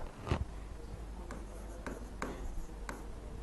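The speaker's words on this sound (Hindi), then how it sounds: "यहाँ पे मैं लिखती हूँ आचार्य चरक" Chalk or marker writing on a classroom board during an Ayurveda lecture, a few short scratchy strokes spaced apart against a quiet room.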